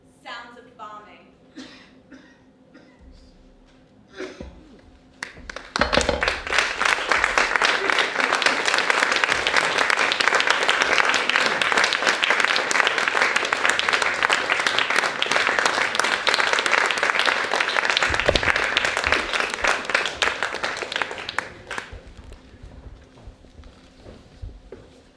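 A theatre audience breaks into loud, sustained applause after a staged reading of Rama Haydar's Desert of Light at a 2017 literary festival. It follows a few seconds of quiet speech and holds steady for about fifteen seconds before fading.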